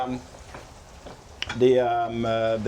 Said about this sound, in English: She's browning this mixture at the moment.